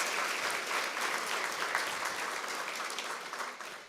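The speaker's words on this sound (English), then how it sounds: "Please give them all a round of applause." Audience applause at an evening awards gala at the National Press Club, a full, steady round of many hands clapping, heard from a little distance and tapering slightly toward the end, with no talking over it.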